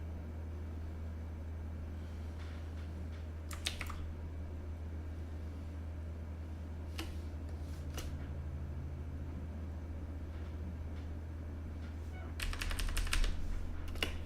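Computer keyboard typing, short scattered bursts of clicky keystrokes with longer gaps between them, faint over a steady low hum and background noise.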